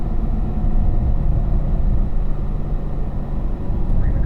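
A race car on track downshifting into third gear as it balances into turn 1: a loud, steady, close engine drone with a dense low rumble throughout and no pauses.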